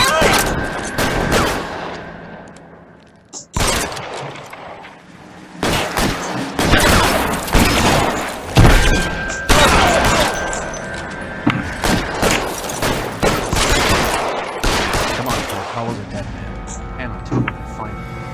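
Gunfire from the video game L.A. Noire: repeated loud bursts of shots and rapid volleys in clusters, separated by brief pauses, with some voices heard between the shooting.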